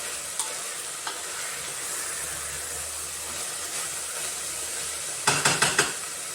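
A pan of rice and coconut payasam being stirred in AMC cookware, with a soft steady sizzle and scraping, then a quick burst of four or five sharper clinks and scrapes near the end.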